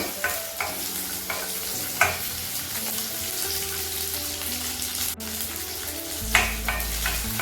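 Ingredients for a Tamil vatha kuzhambu with sundakkai and small onions sauté in a hot pan, giving a steady sizzle and fry broken by repeated scraping stirs. The cooking is close and no one speaks.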